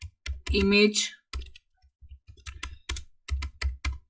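Python code being typed on a computer keyboard, irregular bursts of crisp close keystrokes with short pauses, and a voice speaking briefly near the start.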